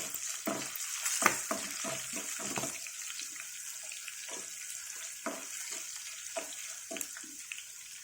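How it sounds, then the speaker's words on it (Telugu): Tempering spices crackle and sizzle in hot oil for a curry of banana stem and moong dal, heard as a soft, steady fry broken by repeated sharp pops and stirring clatters. "దీంతోనే పోపు ఎర్రబడిపోవాలండి."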